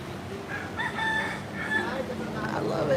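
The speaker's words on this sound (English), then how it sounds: "I love the roosters out here." A rooster crows repeatedly at a moderate distance outdoors at a garden café in Phnom Penh, with a couple of drawn-out calls over steady background ambience.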